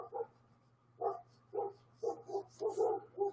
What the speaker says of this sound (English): And there's a dog outside. He's a happy dog. Listen to that happy dog.